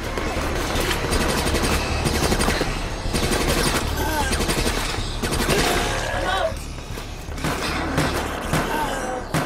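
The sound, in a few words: incendiary rounds gunfire in video game Resident Evil Operation Raccoon City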